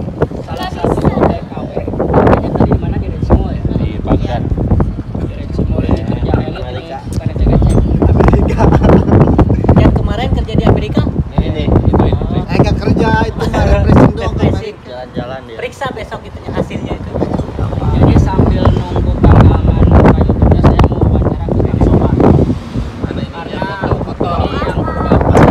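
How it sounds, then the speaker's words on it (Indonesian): Strong wind buffets the microphone without a break, a loud roaring rumble with people talking under it. "Biasanya suka ada angin, suara angin nih."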